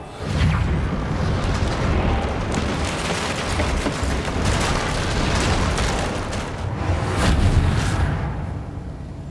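A Reparo repair spell is cast on a damaged bridge in Hogwarts Legacy, producing a loud, rumbling magical surge with booming swells that rises, holds and fades over several seconds, with no talking.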